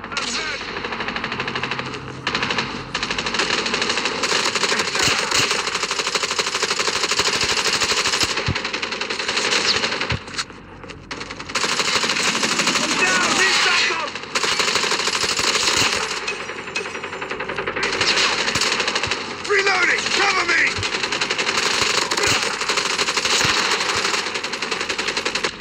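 Call of Duty gameplay is full of dense, loud automatic machine gun fire, long rapid bursts stopping for short pauses, with clinking shell-like sounds and game voices mixed in.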